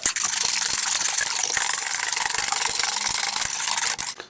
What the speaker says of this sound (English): let's go ahead and scramble those up